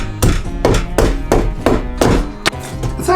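An Estwing Sportsman's axe chops into wood with about seven sharp, close, loud thwacks in a steady rhythm, each strike ringing briefly.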